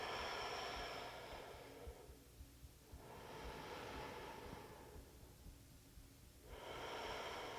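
Deep breathing during a yoga exercise, slow rushing breaths rising and falling in long cycles, close and faint with no voice over them.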